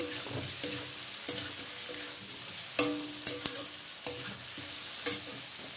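A spoon scrapes and clanks as salted potatoes and onions are stirred in a sizzling pan for katla fish curry, with sharp metallic knocks every second or so over a soft, steady frying hiss.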